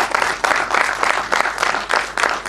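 An audience at a master class on lyric writing applauds, steady dense clapping that goes on throughout with pulsing swells and no talk over it.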